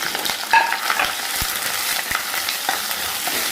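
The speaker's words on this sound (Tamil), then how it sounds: "இப்போ மண் சட்டி சூடாயிருச்சு நம்ம வெந்தயம் போட்டிருக்கோம் அது கூட சின்ன வெங்காயம் பூண்டு இஞ்சி கருவேப்பிலை பச்சை மிளகு" Fenugreek seeds, small onions, garlic, ginger, curry leaves and green pepper fry in a hot clay pot, a steady broad sizzle with a few soft clicks of stirring, close and even throughout, no voices.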